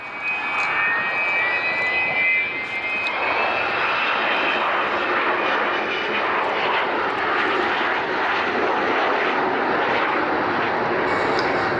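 A loud, continuous roar of a Vulcan bomber's jet engines (XH558) as it passes in a flypast at RAF Waddington, steady and powerful throughout with a faint whine early on.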